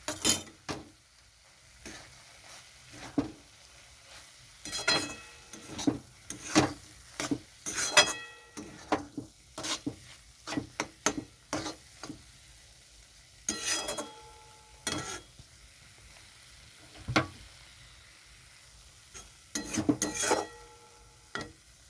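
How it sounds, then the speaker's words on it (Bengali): Ghee sizzling in a pan as oats khichuri is stirred, heard as a soft steady sizzle broken by repeated scraping stirs at irregular intervals, with no talking. "এখানে আমি একটু ঘি দিয়ে দিচ্ছি"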